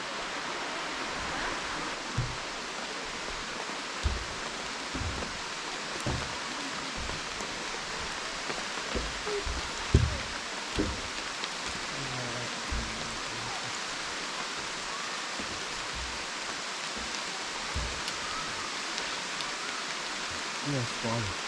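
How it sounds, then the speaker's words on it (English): Steady rain pours through a Thai jungle near a waterfall, a dense continuous hiss with occasional heavier drops and faint low thumps, mostly alone with little else audible. "Middle of the rainy jungle here."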